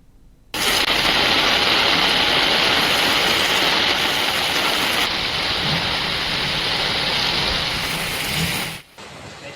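Torrential monsoon rain in southern Gujarat pours down as a loud, steady roar that starts abruptly, holds for several seconds, then cuts off.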